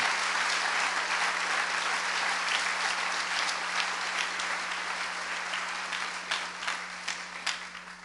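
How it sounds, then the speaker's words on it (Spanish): Congregation in a church applauding loudly and steadily for the full stretch, a dense wash of clapping that thins slightly toward the end with a few sharper individual claps. "démosle un fuerte aplauso al Señor, hermano."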